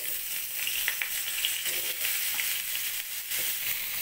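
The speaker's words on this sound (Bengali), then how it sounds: "মাছগুলো ভেজে নিয়েছি, এবার সবজিগুলো ভেজে নিচ্ছি" Papaya, potato and pointed gourd fry in hot oil in the same pan used for fish, a constant bright sizzle with occasional crackles and faint stirring, close and steady without speech.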